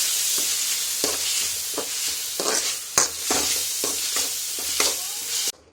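Tomato curry sizzling in a pan is stirred in slow, regular strokes, each scrape rising over a steady frying hiss before it stops abruptly.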